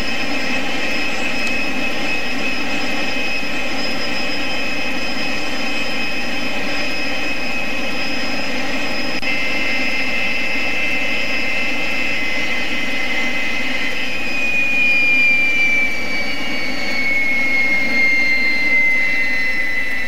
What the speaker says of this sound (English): Getting ready to shut down the engines.